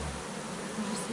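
Dense, steady buzzing of many honeybees swarming close by at an open hive, a continuous insect hum with no pauses.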